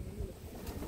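A checkered racing pigeon gives a faint, low, brief coo in a pigeon loft, soft and somewhat distant, with no one talking over it.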